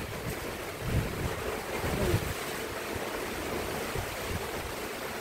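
Strong, steady typhoon wind in the Philippines roars continuously with broadband rushing noise and a few gusty surges, no voices.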